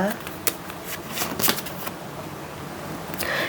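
Tarot cards are shuffled for a reading: a continuous close riffle of card-on-card flicks and soft slaps, with a few sharper snaps over about three seconds.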